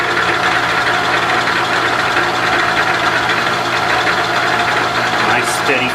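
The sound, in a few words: Bridgeport milling machine cutting with Niagara cutters, hand feed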